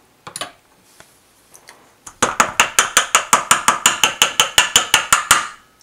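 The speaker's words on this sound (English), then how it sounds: "Just take these beaters off, just like this, okay? And you can kind of tap it on the side here to get it off." Electric mixer beaters are pulled off and tapped against the side of a bowl to shake off cookie dough, giving a few scattered clicks followed by a quick run of about twenty sharp, regular metallic taps, close and clear.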